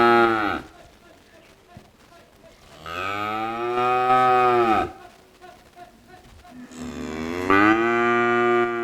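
Cattle mooing in a stage enactment: long, loud, harmonic moos rise and fall, with one swelling call, a second sustained call, and a third starting near the end, separated by quieter gaps.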